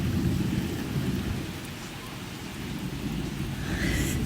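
Steady heavy rain hisses throughout while deep thunder rumbles continuously underneath, loud and close, with no voices.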